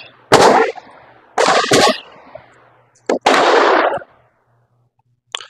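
SIG P365 pistol shots at an indoor shooting range, several loud sharp cracks with reverberant tails, spaced irregularly in pairs and singles, ending in quiet.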